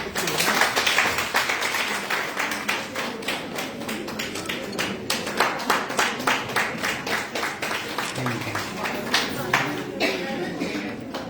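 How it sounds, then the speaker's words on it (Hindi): A crowd claps steadily for a few seconds, welcoming a special guest at a BJP Mahila Morcha gathering in Jammu and Kashmir, with dense hand claps filling the room and a faint voice under them. "तालियों से स्वागत"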